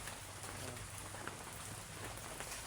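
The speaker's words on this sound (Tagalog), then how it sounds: "Umuulan." Steady rain falls outside on a wet morning, with dripping leaks nearby, a dense, even hiss with scattered drop taps that holds throughout at a soft, distant level, with no voices.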